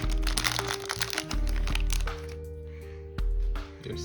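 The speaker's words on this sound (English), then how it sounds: "So the product comes inside this small airtight bag." Crackly plastic crinkles and crunches close up as a small airtight bag holding a silicone cover for boAt earbuds is handled, in irregular bursts over a low steady hum.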